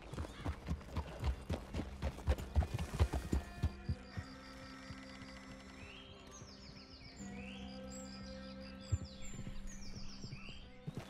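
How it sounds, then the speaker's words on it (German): Horse hooves clip-clopping in Red Dead Redemption 2, a quick run of rhythmic hoofbeats for a few seconds that then gives way to a low hum with faint tonal game sounds. "Ich hole mir das Pferd wieder zurück"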